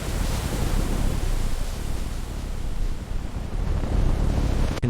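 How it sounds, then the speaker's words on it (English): Huge ocean waves strike a ship in a continuous roaring wash of surf and wind, loud and close, with surges that swell and fade but never pause. "Huge waves hitting ship."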